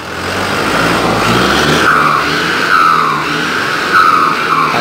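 A Cummins 4BT diesel engine in a JAC 1063 truck, fitted with a BorgWarner K14 turbo, revs up as the turbo whistles in rising and falling sweeps over a loud, gritty engine rumble.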